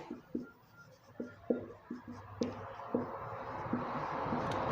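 Chalk or pen taps and strokes as a teacher writes notes, a series of short, sharp ticks in an irregular rhythm, faint and close, with a soft hiss rising toward the end.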